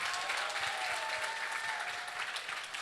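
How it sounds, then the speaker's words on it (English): Audience applause in a podcast studio, a dense steady wash of clapping lasting the whole stretch, fairly loud and even with no voices over it. "One more round of applause for both of them."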